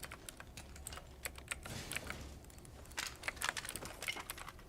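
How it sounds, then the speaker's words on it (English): A computer keyboard with clicky switches is typed on in rapid, uneven bursts of sharp clicks, close but quiet, with no talk. "Clicky switches are so loud."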